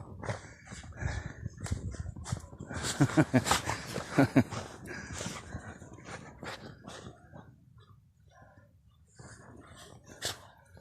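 Black dogs romp in snow with panting, snuffling breaths and a few soft whimpers and yelps, close by and irregular, with faint voices now and then.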